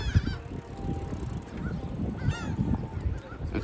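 On the Atlantic City boardwalk in New Jersey, gulls give a few short squawking calls, some near and some farther off, over a busy outdoor murmur of people and footsteps.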